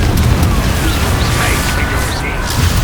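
A Confringo fire-blast spell erupts in Hogwarts Legacy as a loud, sustained, roaring explosive rush. It is close and dense, with a whooshing magical sweep over it and no speech.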